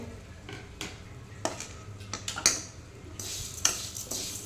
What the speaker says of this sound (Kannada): ಶಾವಿಗೆಯನ್ನು ಕೂಡ ಹಾಗೆ ಕೆಂಪಗಾಗುವ ತನಕ ಇದನ್ನು ಫ್ರೈ ಮಾಡಬೇಕು